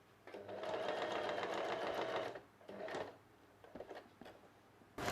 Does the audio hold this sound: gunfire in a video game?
no